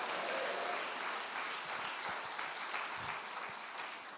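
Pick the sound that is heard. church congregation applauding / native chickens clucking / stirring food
church congregation applauding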